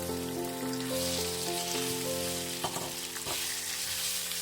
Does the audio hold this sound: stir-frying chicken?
yes